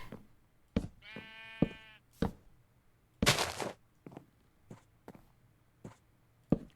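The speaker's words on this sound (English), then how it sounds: "Oh my god, it's a sheep." A sheep bleating in Minecraft, one clear wavering bleat among sparse footsteps, knocks and another short bleat-like burst, close and fairly loud with quiet gaps between.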